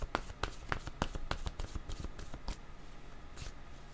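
Oracle cards are shuffled by hand in a quick run of crisp, riffling slaps that are close and fairly soft, then slow into a few lighter flicks.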